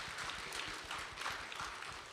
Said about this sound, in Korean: 우리를 사랑하시는 하나님께 영광의 박수 올려드리도록 하겠습니다.